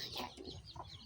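Backyard pet chickens cluck in short, close, repeated calls over about a second, with no talk.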